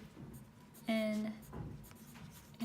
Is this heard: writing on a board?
yes